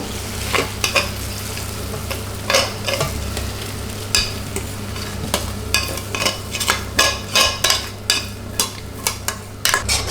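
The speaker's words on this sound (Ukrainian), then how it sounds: "Перемішую, додаю сіль за смаком, підсолюю, перець." A utensil stirs mushroom pâté with carrot and onion in a pot, repeated scraping strokes over a steady sizzle, close and fairly loud, no talking.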